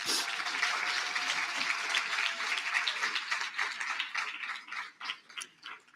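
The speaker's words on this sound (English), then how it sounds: "But I want you to give her a big round of applause." Audience applause at an event for the International Day for the Elimination of Violence against Women, a dense burst of many hands clapping that thins and tapers off over several seconds, with some voices mixed in.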